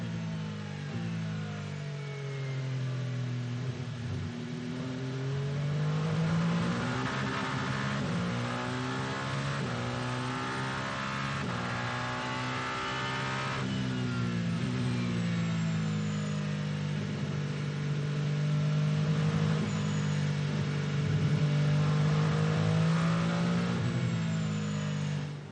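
Hypercar race cars lapping in qualifying at the Qatar 1812 km, engines rising and falling in pitch as they accelerate past, a steady loud roar of engine noise that swells and recedes with no voices.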